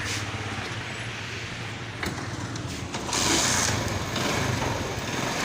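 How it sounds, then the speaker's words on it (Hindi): A small 70cc Chinese motorcycle engine idles steadily close by with a buzzing, rattling drone, briefly revving a little louder partway through. "ये देखें ये बाइक स्टार्ट है"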